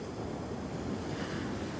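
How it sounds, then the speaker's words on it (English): Ocean surf washes against a sandy shore in a steady, dense roar mixed with wind noise, with no distinct single crash standing out and no voices. "I'm watching the waves crashing against the shore."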